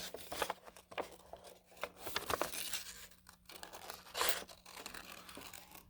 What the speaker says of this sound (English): I'm cutting along my lines.